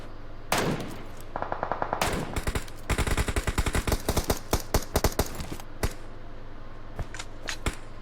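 Gunfire in the mobile video game PUBG Mobile: sharp single shots, then rapid automatic bursts and scattered follow-up shots, loud and close against a low steady hum.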